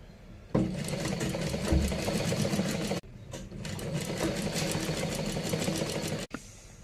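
A sewing machine topstitches along folded fabric with its lining, running in a steady close whir that stops briefly midway, then resumes until a quick halt near the end.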